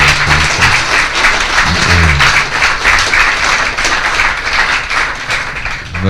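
A seminar audience gives a participant a round of applause, dense steady clapping that fills the room, loud and close, with a voice briefly audible underneath.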